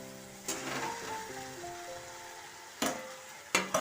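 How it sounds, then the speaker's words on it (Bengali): A spatula scrapes and knocks through fried okra and potatoes coated in mustard paste in a pan, with a soft sizzle and a few sharp clacks near the end; a steady tonal hum sits underneath. "এবার ভালো করে একটু নাড়াচাড়া করে নেব"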